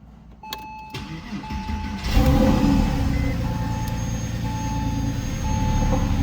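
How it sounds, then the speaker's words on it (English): Cold start of a 2004 Porsche 911 Carrera 4S, a few dashboard chimes and clicks and then the engine catching with a loud burst and settling into a steady, fairly loud idle, heard from inside the car. "This is a cold start."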